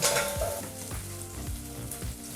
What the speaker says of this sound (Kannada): ಇದನ್ನೆಲ್ಲ 1 ನಿಮಿಷಗಳ ಕಾಲ ನೀಟಾಗಿ ಎಣ್ಣೆಯಲ್ಲಿ ಫ್ರೈ ಮಾಡ್ಕೋಬೇಕು